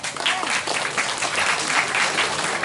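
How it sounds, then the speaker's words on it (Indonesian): Applause from an audience at an Islamic religious gathering at a pesantren after competition winners are announced, a full, lively burst of many people clapping close by, steady and loud throughout. "Tepuk tangan."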